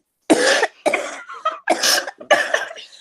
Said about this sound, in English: Starts coughing.